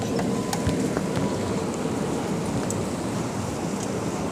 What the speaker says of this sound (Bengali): দেখো জাস্ট বাইরে কী পরিমাণ বৃষ্টি হচ্ছে